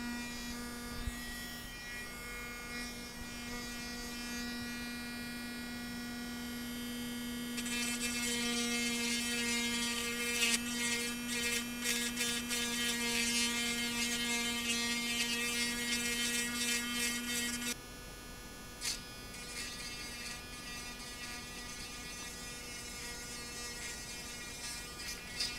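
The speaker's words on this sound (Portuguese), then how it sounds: "Depois eu vou passar aqui esse polidor pra ver como é que ele fica." A Dremel Stylo+ rotary tool with a polishing bit runs with a steady high electric whine and hum close up, getting louder and grittier as the bit presses on the work midway, then easing back.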